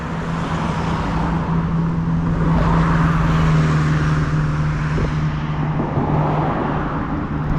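Cars passing on a busy road at night: a loud, continuous roar of nearby traffic with tyre and engine noise swelling as vehicles go by, heard close from the roadside.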